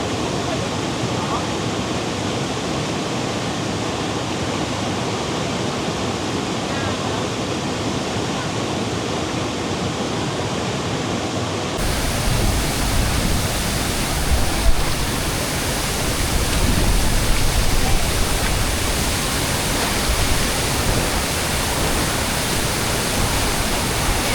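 Powerful waterfall at Aloha Falls on Mt. 387, Nueva Ecija: a dense, steady roar of falling water fills the whole clip and grows louder and closer about halfway through.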